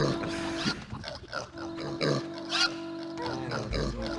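Repeated grunts and squeals from a group of pigs in the Warcraft Adventures video game, several bursts over a few seconds with no talk.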